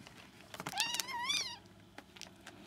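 A kitten meows close by, a couple of clear rising-and-falling cries in quick succession over soft rustling and light handling noises. No one speaks.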